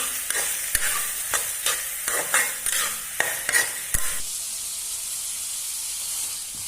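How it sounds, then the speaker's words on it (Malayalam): Sliced onions, three thinly cut, sauté and sizzle in hot oil, with a steady frying hiss under repeated sharp stirring scrapes of a spoon in the pan, close up and continuous, then settling into an even sizzle. "സവാള നല്ലവണ്ണം വഴറ്റിയെടുക്കാം"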